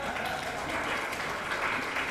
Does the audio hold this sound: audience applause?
yes